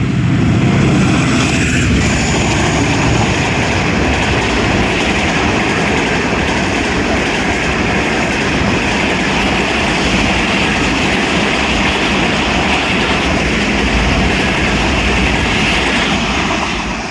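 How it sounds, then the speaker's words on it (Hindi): The 15 Up Karachi Express, led by locomotive ZCU 30, thunders through a station in a loud, continuous rumble of engine and wheels with faint clickety-clack, filling the whole stretch without pause. "15 up Karachi express ZCU 30 lead कर रहा है जी आज, और धूल मट्टी उड़ाते हुए आ रही है जी।"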